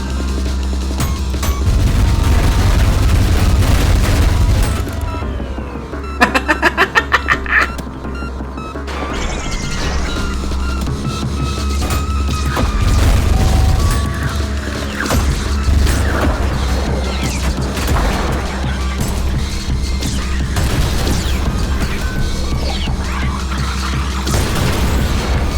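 Nail magnet firing in the video game Ultrakill, amid a loud, continuous barrage of crashing, booming combat effects with rapid metallic bursts near the start, no talking.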